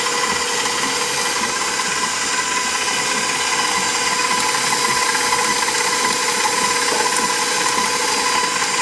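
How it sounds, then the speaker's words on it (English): An electric mixer whirs steadily through banana bread batter, a constant close mechanical hum with a faint rattling texture and no pauses. "I'm going to stop my mixer because I want to mix everything together."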